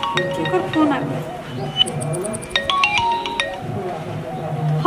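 A mobile phone rings indoors during a Bhojpuri comedy sketch, with bright repeating electronic tones in a few bursts and voices talking around it.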